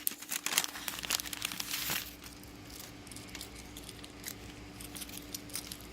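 Crinkling and tearing of tape and wrapping as a small package of bangle jewelry is opened up close, busy rustling at first, then quieter intermittent crackles.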